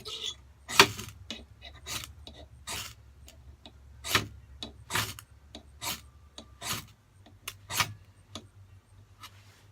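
A ferro rod struck repeatedly to ignite Maya dust fire starter, giving a series of close, sharp scraping rasps at an irregular rhythm.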